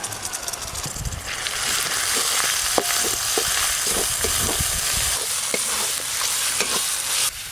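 Onions frying in oil with ginger-garlic paste and ground spices for a rupchanda fish kalia, a loud continuous sizzle up close with repeated spatula scrapes and knocks against the pan.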